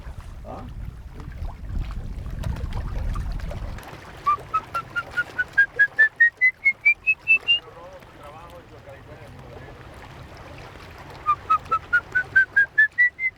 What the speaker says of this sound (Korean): 휘파람은 악어의 먹잇감인 새를 불러 모으기 위한 신호.